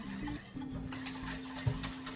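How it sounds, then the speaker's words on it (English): A whisk scrapes and clinks around a pot of boiled custard heating toward a boil, in a quiet, close, irregular rhythm with faint stovetop hum beneath and no talking. "And we whisk, we whisk."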